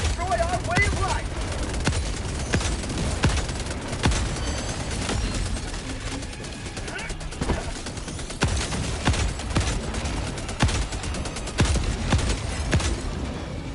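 Anti-materiel rifle fire in Helldivers 2 during a solo Super Helldive mission against the Illuminate, rendered as dense, loud rapid gunshots and booming blasts throughout, with a player's voice speaking over the battle.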